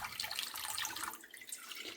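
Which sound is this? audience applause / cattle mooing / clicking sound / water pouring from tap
water pouring from tap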